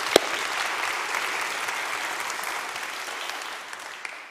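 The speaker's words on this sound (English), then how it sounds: "Let's give her another round of applause." A church congregation applauds during a Sunday morning service, a steady wash of clapping held at even strength for several seconds before easing slightly at the end.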